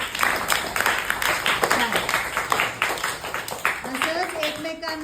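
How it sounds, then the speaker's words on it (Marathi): Children in a classroom clap loudly in a burst of quick, uneven claps, with voices talking over and around the clapping. "जोरात टाळ्या"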